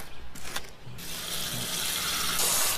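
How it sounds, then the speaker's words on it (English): Feeder worms rinsed under a running tap in a sink, a steady broadband gush of water that swells louder toward the end, with a few brief clatters early on. "We just rinse them off just because the worms might have chytrid on them."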